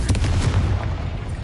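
Rapid, heavy blasts from the Confringo and Bombarda spells in the Hogwarts Legacy video game, a dense run of loud, booming impacts with no pauses between them.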